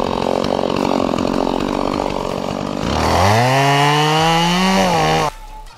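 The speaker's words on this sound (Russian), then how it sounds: "Мужики пилят дрова и начинаем." At a forest cordon, men cut firewood logs with a loud, close chainsaw that buzzes steadily, then revs up to a high, strained whine before stopping abruptly, leaving a low rumble.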